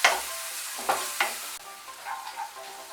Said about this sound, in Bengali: মশলাটাকে এখন একটু ভালো করে কষিয়ে নেব